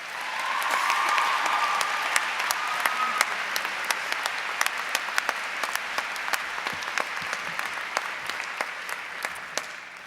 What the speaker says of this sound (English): Please join me in welcoming Ashley with a round of applause.